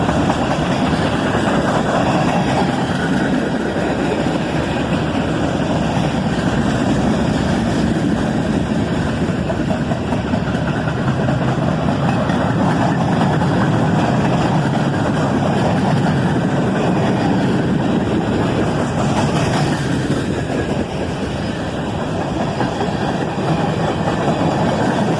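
A manifest freight train carrying mixed cars rolls past steadily, a loud continuous rumble and clatter of wagons that holds at an even level throughout.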